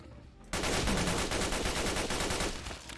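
A homemade SMG firing in the modded video game Fallout 4, one loud continuous automatic burst of rapid shots lasting about two and a half seconds after a brief quiet start.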